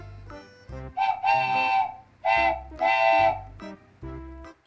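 An electric train's horn sounds several times in a rhythmic pattern of short and long blasts, loud and close, with rumbling rail noise underneath.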